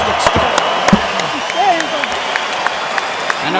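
A large arena crowd in Las Vegas applauds steadily after the Mayweather vs McGregor boxing match, a dense wash of clapping with scattered sharper claps standing out, heard from a distance.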